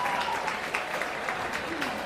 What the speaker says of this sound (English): As the crowd applause.